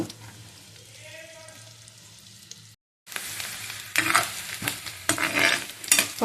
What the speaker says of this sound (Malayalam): പനീർ വറുത്ത അതേ ചട്ടിയിൽ തന്നെ നമ്മൾ ഉള്ളി വഴറ്റിയെടുക്കുക